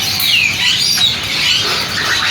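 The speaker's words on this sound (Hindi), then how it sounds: "कलरफुल तोते।" Colorful parrots at a bird market in Saddar, Karachi, give shrill chirps and squawks. The calls overlap in a loud, busy chorus throughout.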